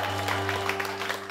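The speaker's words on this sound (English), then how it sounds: "Give her a round of applause," Applause from a cabaret audience for a pianist at a Spank! show, a soft, even patter of clapping heard briefly over a steady low musical hum from the stage.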